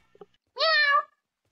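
A single clear, close meow from a cat lasts about half a second, preceded by a couple of faint small sounds and followed by silence.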